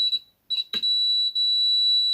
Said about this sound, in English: Okay, do you hear a buzzer?